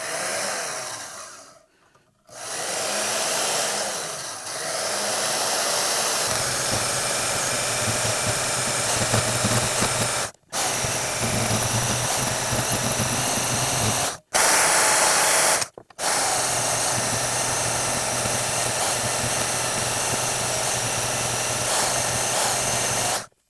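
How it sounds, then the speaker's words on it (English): A bandsaw cutting a steel blank for a Serbian chef's knife, steady loud whirring and grinding drone that runs continuously with a few brief pauses as the cut stops and restarts. "I'm going to take and cut out these lines, or close to those lines, on the bandsaw"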